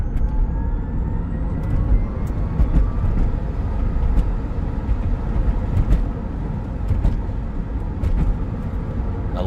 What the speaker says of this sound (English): You can definitely hear that like kind of battery whine,